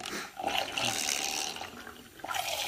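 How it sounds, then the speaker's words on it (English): A small battery-powered mixer whirs steadily through a natural toothpaste mixture, producing a continuous wet, frothy churning that dips briefly twice before resuming, close and fairly quiet. "what I'm using is this little battery-powered mixer, and just going to mix it through"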